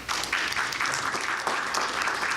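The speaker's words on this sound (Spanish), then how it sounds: "para el cual pido un gran aplauso" A seated audience at a Latin American citizen-security forum gives a big round of applause for panelist Dr. Ricardo Rojas, a loud, continuous wash of many hands clapping with no talk.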